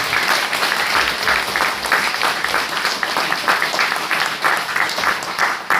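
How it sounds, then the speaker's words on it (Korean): A crowd at a Kouk Sun Do 57th founding anniversary ceremony claps steadily in sustained applause, dense and continuous throughout, with no voices standing out. "같이 박수 한 번 큰 박수 한번"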